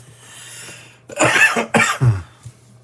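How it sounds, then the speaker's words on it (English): A few harsh, dry coughs in quick succession close to the microphone, surrounded by near silence. "That's a dry cough."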